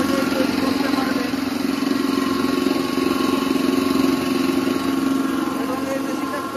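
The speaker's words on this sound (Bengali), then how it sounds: "এই মেশিন দিয়ে আপনারা ধান থেকে চাল খুব সহজেই তৈরি করতে পারবেন" An automatic rice mill runs steadily, milling paddy into rice with a continuous loud mechanical drone and hum throughout, no pauses.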